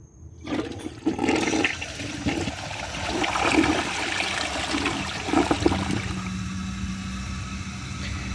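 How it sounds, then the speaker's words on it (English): A 1994 Mansfield Alto toilet flushes: a sharp start, then a rushing, gurgling surge of water that settles into a steady trickling refill, heard up close with no talking. "let's give it a flush"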